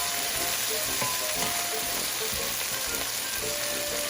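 Potato and sweet potato fry in a pan for fried rice, giving a loud, constant hissing sizzle with faint crackles and occasional stirring scrapes throughout.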